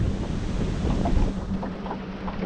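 Wind blows steadily across a lake, buffeting the microphone with a dense, rushing roar and some gusty swells.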